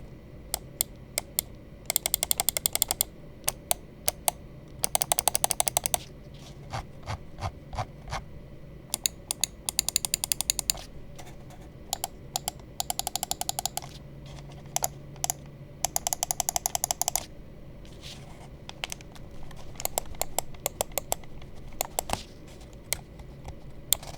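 Sharp, close clicks from a Darmoshark M3S Pro gaming mouse, some single and spaced out, others in fast rattling bursts, over a low steady background hum.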